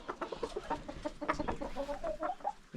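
A white Silkie chicken clucks close by in a short run of soft, quick clucks and murmurs.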